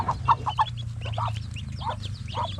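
Newly hatched chicks cheep in quick high peeps near a hen, whose low clucks run underneath, close by with no speech.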